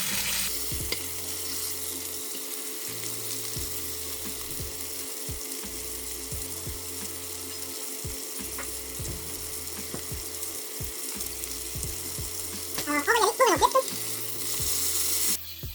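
Steak sears in a hot pan with a steady close sizzle while it is pressed down so the edges touch the surface, with soft intermittent knocks and a brief louder crackle near the end.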